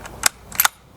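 Two sharp, close cracks about a third of a second apart come from a Stevens 334 rifle firing 7.62x51 M80 149 grain full metal jacket rounds over a chronograph, each a brief bright snap with no talk.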